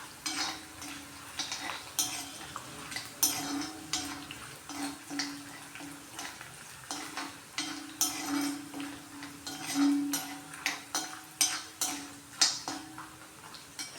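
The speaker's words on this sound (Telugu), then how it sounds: "దీంట్లో అన్నం కలుపుతాను ఇప్పుడు." A spoon scrapes and clinks against a pan while cooked rice is stirred into a coconut mixture with the stove off. Irregular metallic taps and scrapes repeat at close range.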